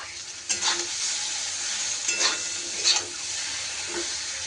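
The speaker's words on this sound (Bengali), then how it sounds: "এবার আমি এরই ওপরে ভেজে রাখা ঢেঁড়স আর আলুটা দিয়ে দিলাম।" Fried okra and potato pieces land in hot spiced oil with green chillies, giving a loud, continuous sizzle up close, with a few stirring scrapes and bursts of crackling and no talking.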